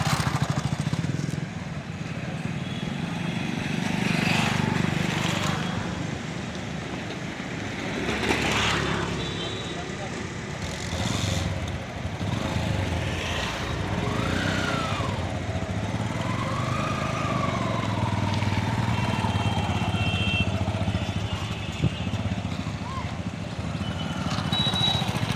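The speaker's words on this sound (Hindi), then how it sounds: "जो लोडिंग मोटर बाइक से गांव-गांव जाकर मट्ठा सप्लाई करता है" A loaded delivery motorbike carrying buttermilk between villages drones steadily as it rides, a continuous engine hum that rises and falls, with a person talking over the noise.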